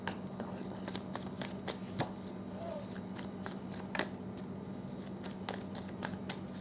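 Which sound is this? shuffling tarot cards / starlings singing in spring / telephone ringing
shuffling tarot cards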